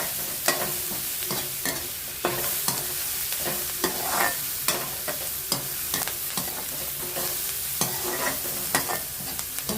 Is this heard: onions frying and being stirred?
yes